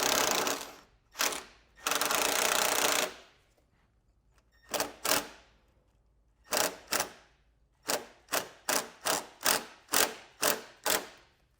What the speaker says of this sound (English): I'm going to use the provided self-tapping screw to secure it.